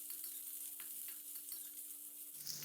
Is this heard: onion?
yes